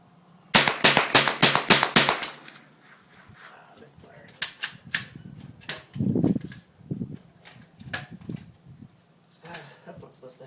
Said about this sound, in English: Alright, so 10 rounds, 25 yards, rapid fire.